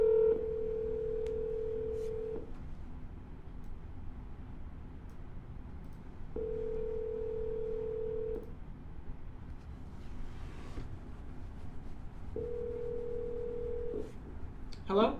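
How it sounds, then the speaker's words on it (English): A telephone line plays three long, steady ringback tones, each about two seconds, separated by pauses of roughly four seconds over a low background hum, as an outgoing call to a property seller connects. "And we're dialing."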